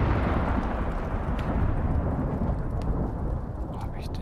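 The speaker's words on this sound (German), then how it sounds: "Donner wie Sau und Blitz." Thunder in a thunderstorm in the open-world survival game Icarus: a heavy, unbroken rumble that fills the whole stretch with a dense wash like pouring rain.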